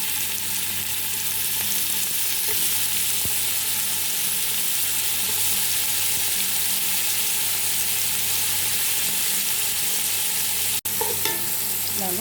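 Tomatoes and coriander leaves fry in a pan for a chicken maqlubah rice dish, giving a steady close sizzle with occasional stirring scrapes and one sharp clack near the end.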